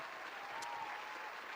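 Applause for attendees at the close of an online event: a brief, even wash of clapping, faint and continuous throughout.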